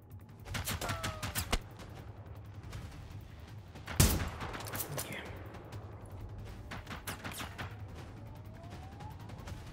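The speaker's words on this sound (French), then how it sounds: "Fusil à verrou." Bolt-action rifle fire in the shooter game Generation Zero: one loud, sharp shot stands out near the middle amid fainter cracks and rumbling background.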